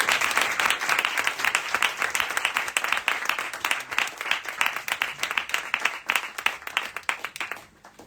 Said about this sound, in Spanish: un gran aplauso para Elvira Linda